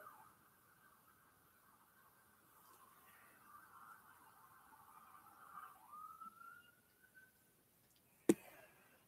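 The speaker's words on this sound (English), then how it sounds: "You guys hear the sirens?" Distant sirens wail faintly in the background, a thin sustained tone that wavers and then rises near the end, quiet and far off, with a sharp knock just before the end.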